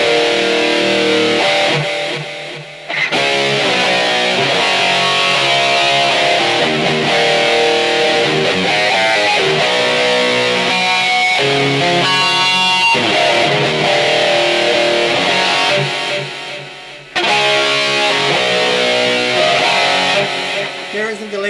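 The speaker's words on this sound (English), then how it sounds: "Let's turn that delay on with the new settings." Electric guitar played with a 400 ms delay effect in an 80s-style tone, distorted and sustained with repeating echoes trailing the notes, loud and steady with brief dips near three and seventeen seconds.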